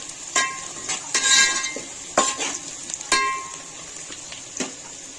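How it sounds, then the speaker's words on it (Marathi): Long-sliced onions fry in a pan while being browned for biryani, with a soft sizzle under several sharp metallic scrapes and clinks of a spoon against the pot. "लांब लांब कापलेला कांदा टाकणार आहोत. कांदा आपला ब्राऊन करून घ्यायचा आहे."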